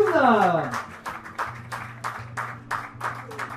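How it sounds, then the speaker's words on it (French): An audience claps for the winner of a mountain-bike raid stage in the Ardèche after a fading voice, with irregular rhythmic claps and a steady tone running underneath. "Je vais vous demander des applaudissements pour Delphine Boissy."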